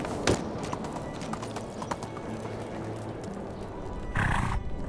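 Hooves of a ridden horse in the medieval village game Medieval Dynasty clop steadily over a constant outdoor ambience, with a louder burst near the end and no voices.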